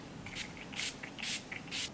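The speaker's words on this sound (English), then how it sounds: "This is also a long wearing kind of setting spray, but it has a little bit dewiness to it, the Urban Decay one." Four short misty bursts from a pump nozzle of Urban Decay makeup setting spray, evenly spaced and close, each a soft hiss, with no talking.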